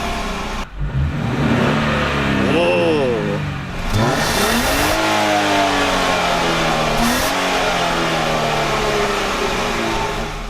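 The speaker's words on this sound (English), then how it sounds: "the engine is the same, the exhaust note is a little bit different" A Jeep Wrangler engine revs hard, its exhaust note rising in sweeping bursts and then settling into a loud, steady drone, with people talking over it at times.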